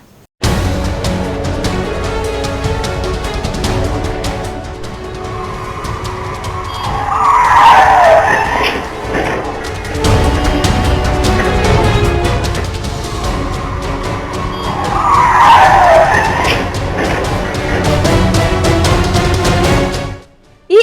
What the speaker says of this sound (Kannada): ಅತಿ ವೇಗವಾಗಿ ಬಂದ ಕಾರು ಚಾಲಕ ನಿಯಂತ್ರಣ ತಪ್ಪಿ ಬೈಕ್ ಆಟೋಗೆ ಡಿಕ್ಕಿಯಾಗಿದ್ದು